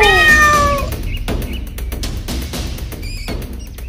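A cartoon cat lets out a loud, drawn-out meow at the start, followed by quieter shuffling and knocking sounds.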